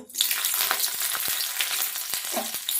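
Garlic fries in oil over low heat, a close continuous sizzle with scattered crackles and a few stirring taps after a quiet start.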